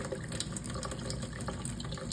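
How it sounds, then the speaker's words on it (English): Water squirts from a bulb syringe and is forced through a fountain pen nib, a steady close hiss and trickle of flowing liquid that continues throughout. "we take a bulb syringe and fill that with water, and we just force water through the nib until it runs clear"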